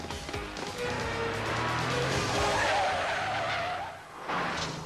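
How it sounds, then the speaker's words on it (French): An Aston Martin engine roars and its tires squeal as the car pulls away, the sound building and then fading toward the end of a cartoon scene. "Mais on dirait le moteur de l'Aston Martin"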